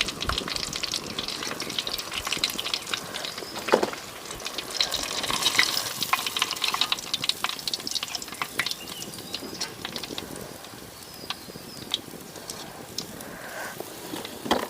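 Quail kebab pieces deep-frying in hot oil give a steady, close, dense sizzle and crackle with small pops and bursts, continuous throughout with no one speaking.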